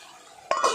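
A metal lid drops onto a frying pan of mushrooms with one sharp close clank and a short ringing rattle after a quiet moment.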